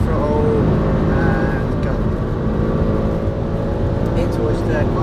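A 510 bhp Alfa Romeo Stelvio Quadrifoglio engine drones steadily under light throttle on a track, recorded from inside the cabin with a loud, constant rumble while someone talks over it.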